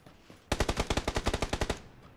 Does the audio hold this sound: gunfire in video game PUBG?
yes